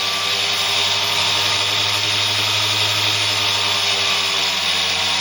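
A small electric motor in a six-pole, two-coil, one-wire series setup runs under load with a steady, loud whine and hum, unchanging and continuous with no talk.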